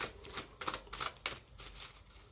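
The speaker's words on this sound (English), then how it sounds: "they need a good shuffle just so that they're ready for the collective" A deck of oracle cards being shuffled by hand, several crisp riffling bursts and soft slaps at a close, quiet level with no talking.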